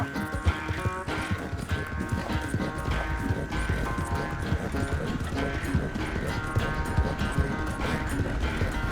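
Horse hooves gallop at a steady, driving pace in Red Dead Redemption 2, the rapid clip-clop running continuously beneath a dense, full musical score.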